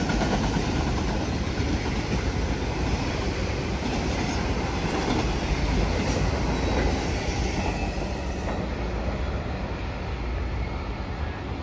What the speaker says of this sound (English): Westbound train, Ironton, Ohio.